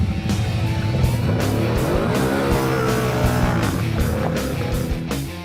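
A Can-Am Maverick Max Turbo off-road side-by-side accelerating away, its loud turbocharged engine revving steadily with rising pitch and gear changes, close and continuous, with faint tire noise and no talk.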